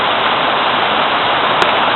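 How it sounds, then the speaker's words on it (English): Water spills over slippery rocks at Kamaniskeg Waterfall, a steady, loud, broadband rush that fills the whole moment without pause. "Look at the water falling off that."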